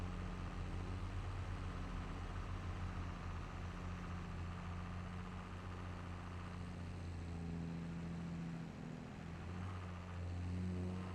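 Tractor engine in Farming Simulator 22 laboring to climb a hump while collecting silage, a steady, loud low-pitched drone that holds continuously with slight dips in load, no talk over it.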